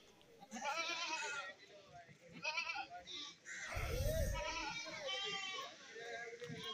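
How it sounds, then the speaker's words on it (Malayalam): Bleats from a buck goat at a Kerala goat market rise repeatedly and close by, some loud and drawn out, mixed with people talking nearby and a low thump of handling. "വളർത്താനും പറ്റിയ നല്ലൊരു മുട്ടനാട് ഇതാ ഇവിടെ നിപ്പുണ്ട്"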